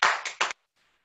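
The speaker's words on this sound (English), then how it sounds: "Can we get a nice round of applause for John?" Brief clapping from a small campfire gathering, two or three close, loud bursts of hands that cut off quickly into near silence.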